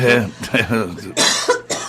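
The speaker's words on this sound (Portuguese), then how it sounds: "estou com uma tosse" A person coughs several times in quick, harsh bursts, with voiced throaty sounds between them, close to the listener.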